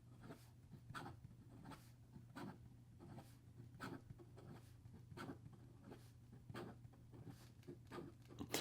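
A Platinum fountain pen nib writes quickly across paper, giving a faint, soft scratching with rhythmic strokes over a steady low background hum.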